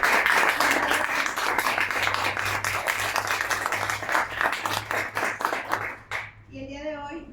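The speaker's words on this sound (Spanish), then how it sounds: "Les quiero pedir un fuerte aplauso para..." Audience applause for a speaker at a youth civic participation event in Veracruz: a crowd claps steadily and loudly for about six seconds, then the clapping stops abruptly and a voice begins speaking alone.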